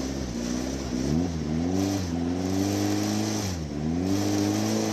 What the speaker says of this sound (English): Fiat diesel going through